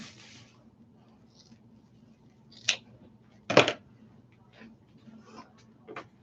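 Scissors trimming purple mesh ribbon for a poof wreath, heard as a few sharp separate snips, the loudest a double cut midway, over a low background hum.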